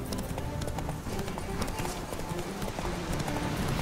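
A horse gallops in The Witcher 3 video game, a fast, steady run of clip-clopping hoofbeats that continues without a break.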